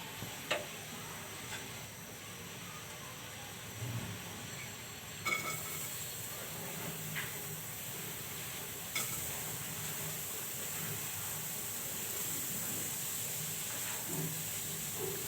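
Chopped onions sizzle in hot oil in a kadai on a stove as fish is prepared; a steady hiss rises partway through, with faint stirring clicks and ticks beneath it.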